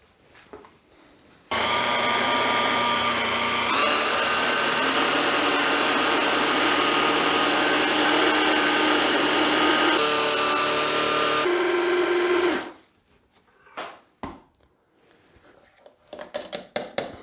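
A loud blender whirs steadily for about ten seconds blending sugar with lemon zest, its pitch shifting slightly as it runs, then stops, followed by a few scattered clatters.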